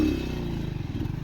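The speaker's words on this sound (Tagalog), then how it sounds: "Ang lakas ng motor na yun, oh" A loud motorcycle engine labors up a steep mountain road, a steady close low rumble with rapid pulsing clatter throughout the short burst.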